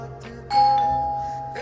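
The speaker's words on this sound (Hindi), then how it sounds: "लगातार बजती घंटी की आवाज" A doorbell chimes once, a clear two-tone ding-dong that rings out and fades slowly.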